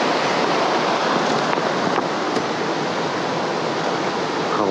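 River flowing in misty morning mountain country on a Khamar-Daban hike, a steady, broad rushing wash of water, loud and continuous with no voices.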